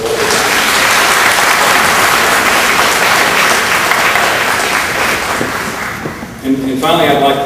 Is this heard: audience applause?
yes